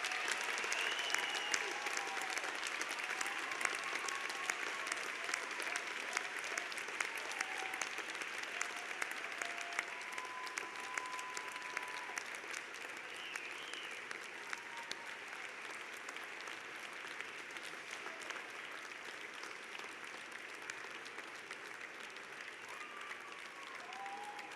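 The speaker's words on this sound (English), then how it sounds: "thank all the partners, families, and friends who have helped you get here by giving them a huge round of applause" Sustained, steady applause from a large crowd of business school graduates at a university convocation ceremony, a dense even wash of clapping lasting the whole stretch, with faint voices and occasional whoops above it.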